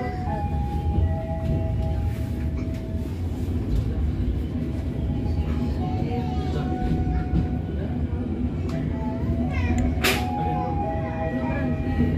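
Pasundan passenger train waiting at Cipendei station, a steady broad rumble of engine and carriages with faint tonal whines and a sharp clank near the end, voices murmuring in the background.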